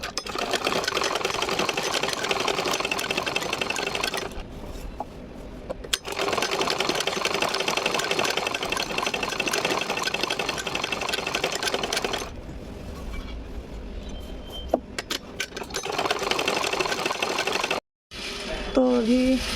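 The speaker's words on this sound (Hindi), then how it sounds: "अभी भी सिलाई में लगी हुई हूँ। ये देखिए तकिया के कवर सिल रही हैं, कुशन कवर" A sewing machine stitches cushion and pillow covers, its rapid whirring running in long steady bursts broken by short pauses and mechanical clicks, loud and close.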